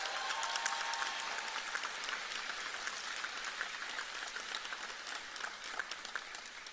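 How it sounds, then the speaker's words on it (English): A graduation ceremony audience gives a long, even round of applause, many hands clapping in a soft, distant-sounding wash that carries on steadily throughout. "So I want to hear you all give Mrs. Moore a hearty round of applause again."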